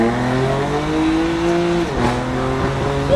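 A tuned BMW M2 Competition engine drones steadily from inside the cabin, its pitch holding then dipping and climbing again as the car shifts and accelerates.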